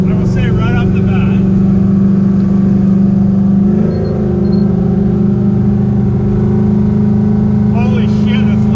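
Loud 1968 Ford Mustang Fastback engine droning steadily while driving, a heavy constant rumble with a brief shift in pitch midway and faint voices over it.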